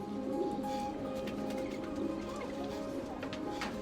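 Pigeons or doves coo softly outdoors in the East Village as a flock gathers, a low steady murmur with faint distant calls and no talking.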